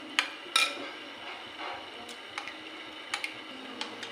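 Rice porridge with grated coconut being stirred in a pot, giving sporadic soft scrapes, wet squishes and light metallic ticks of a spoon against the pot, fairly close, with no talking.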